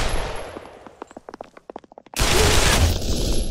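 Gunfire in the Pavlov VR shooter game, with a run of quick sharp shots that crack in succession, then a loud burst of noisy blasts and commotion close by.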